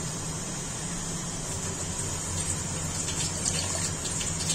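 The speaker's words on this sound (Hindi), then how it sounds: "तो अब मैं इसमें थोड़ा सा और पानी डालूंगी" Water is poured into a pot of moong dal cooking on the stove, making a continuous, fairly loud splashing gush that stays steady throughout.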